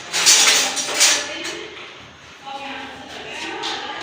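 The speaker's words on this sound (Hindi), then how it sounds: "अब हम इसे अच्छी तरह से मिक्स कर लेते हैं ताकि मिर्च कच्ची ना रहे" A spoon stirs garlic and chili in a cooking pot for dal chawal, giving a few close scraping and clinking strokes that fade and return, alone.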